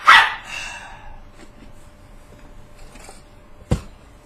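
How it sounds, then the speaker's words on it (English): Indoor dogs bark, starting with a sharp loud yelp and some fading barking, followed by quieter rustling and one more abrupt close bark near the end. "And the dogs are gonna go crazy."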